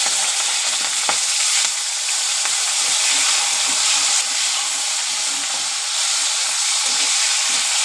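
Tomato frying in hot oil with cumin seeds and green chili for moong dal khichdi, a steady, close, bright sizzle and hiss that continues without a break and has occasional faint stirring scrapes.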